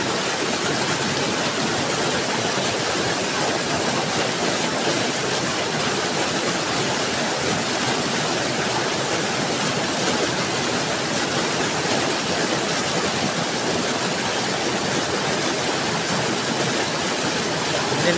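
A strong current of water rushes past in a steady, loud, unbroken roar that stays dense and even throughout.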